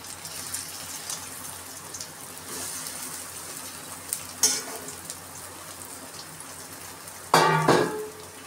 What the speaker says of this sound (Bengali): সবগুলো তুলে নিয়ে আমি বাকিগুলো এর ভিতর দিয়ে আবার ভেজে নেব, একই রকম করে ভাজা হবে।